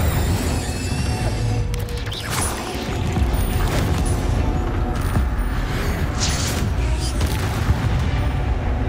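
Incendio fire spell cast in the Hogwarts Legacy video game, with rumbling whooshes and crackling bursts of flame over dense, continuous game noise and mechanical clatter.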